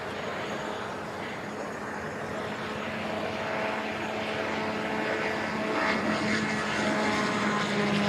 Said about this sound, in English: Let's just listen to this aircraft rolling.